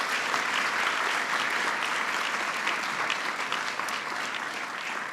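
An audience at a ceremony honoring science, technology and innovation applauds steadily, a dense wash of many hands clapping at even strength throughout, fading slightly at the end with no voices over it.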